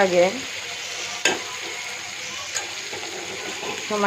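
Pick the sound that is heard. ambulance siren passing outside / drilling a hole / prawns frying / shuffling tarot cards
prawns frying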